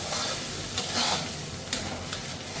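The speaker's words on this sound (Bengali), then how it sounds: "ডালটা দিয়ে দেওয়ার পরে আমি কিন্তু ভালোভাবে একটু নাড়াচাড়া করে নেব" Moong dal stirred in a hot pan for a fish-head dal, a soft continuous sizzle with a few brief scraping strokes, fairly quiet and without speech.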